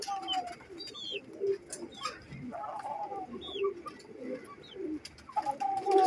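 A male teddy pigeon coos softly, low repeated calls close by, with faint chirps and other bird sounds scattered around it.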